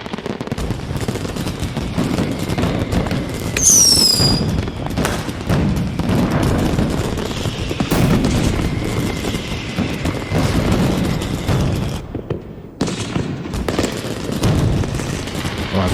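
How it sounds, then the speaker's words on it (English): Fourth of July fireworks go off in rapid, crackling bursts and booms, a dense, continuous barrage with a whistling rocket near the start and a brief lull toward the end. "let me go set off every other firework we've got over here"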